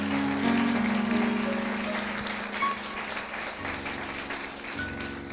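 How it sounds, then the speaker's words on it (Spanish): A church congregation applauds steadily through most of the clip, with sustained keyboard or organ tones underneath. "Vamos a darle un aplauso al Señor."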